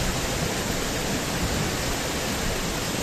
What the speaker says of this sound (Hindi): वहीं इलाके में नदियां नाले उफान पर हैं।